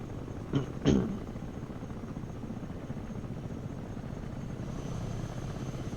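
An Osprey tiltrotor aircraft from the video game Broken Arrow flies overhead with a steady, broad rotor roar, broken early on by two brief louder thumps, and no voices.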